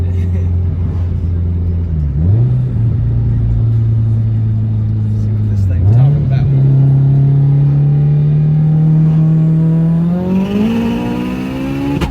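A 908whp Subaru STI accelerates hard, its engine roaring loudly up through the revs with quick dips at each gear shift into third, heard from inside the car with occupants talking over the engine.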